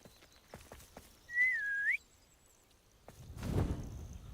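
A sharp finger whistle from a character in Hogwarts Legacy, a single rising and falling note lasting about half a second, followed by approaching hoofbeats and a low rumble.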